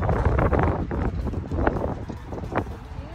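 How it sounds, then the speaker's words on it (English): Strong wind outdoors buffets the microphone with loud, continuous rumbling gusts that rise and fall for the whole stretch, and no other sound stands out. "It's super windy out today."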